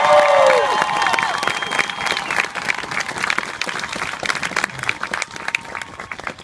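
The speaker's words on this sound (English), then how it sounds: "Congratulations. Let's give them a round of applause." A large crowd at an Air Force basic training graduation at Lackland claps loudly and cheers, dense applause rolling on steadily from start to finish.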